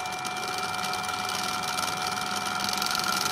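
A permanent magnet spins inside a three-phase coil field taken from a commercial induction motor stator, speeding up with a steady high-pitched electrical whine and hum layered with faint mechanical rattle, continuous and fairly close.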